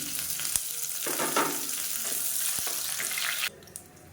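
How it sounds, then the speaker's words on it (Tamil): Curry leaves and mint leaves sizzle loudly in hot oil in a cooker, a dense frying hiss with a few knocks and stirs, cutting off abruptly near the end to quieter sizzling. "இப்போ கருவேப்பிலை சேர்த்துக்கலாம். கொஞ்சமாக புதினா இலை சேர்த்துக்கலாம்."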